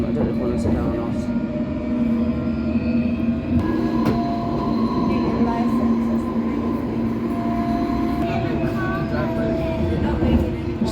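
A London Underground subsurface line train runs between stations, with a loud continuous rumble, rail clatter and squeal, and faint voices in the carriage around it.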